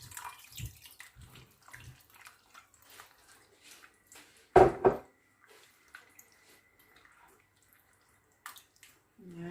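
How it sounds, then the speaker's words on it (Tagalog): Water poured into a pan of ketchup fried chicken while it cooks, a brief splashing gush midway amid soft stirring and clinking kitchen sounds, close and fairly quiet. "lalagyan natin guys ng tubig."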